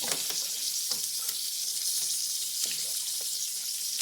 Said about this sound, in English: keep mixing until the butter and cheese is all melted up